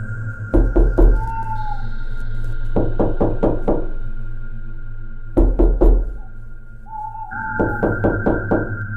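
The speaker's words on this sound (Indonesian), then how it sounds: "Suara ketukan pintu itu semakin lama semakin cepat." Knocking on a door in a horror story, sharp wooden raps in three quick bursts of four to five knocks each, loud and close, the later bursts coming faster, over a steady low hum with a faint whistle-like tone between knocks.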